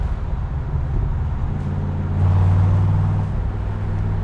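A 1967 Corvette convertible with original side-exhaust pipes and factory baffles idles smoothly up close, a steady deep rumble that swells slightly louder partway through, with no talking.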